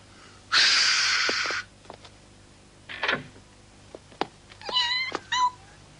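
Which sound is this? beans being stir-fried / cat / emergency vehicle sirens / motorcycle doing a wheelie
cat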